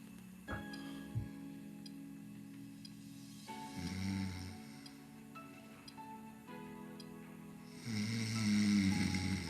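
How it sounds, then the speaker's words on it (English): A child sleeping with breathing trouble snores in slow, rasping cycles, one long snore near the middle and another building at the end, fairly faint over a quiet room with small ticks. "There's your snoring."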